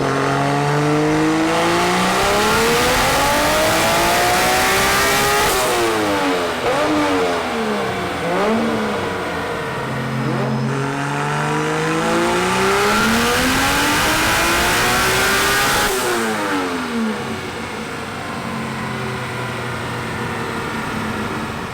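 Nissan S15 fitted with a 2JZ engine is revved hard during tuning, loud rising and falling pulls repeated in long sweeps, with no voices over it.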